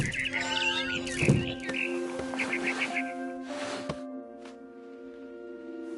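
Barn swallow chirping in the video game What Remains of Edith Finch, a few short bright chirps early on over tonal ambient game music, fading into sustained music tones.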